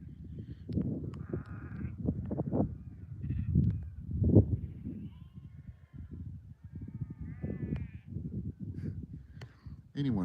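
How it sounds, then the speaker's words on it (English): Sheep bleat steadily from a flock about 400 yards away, loud and repeated, mixed with crow-like calls and some talking. "anyone would think I was standing in a sheep market"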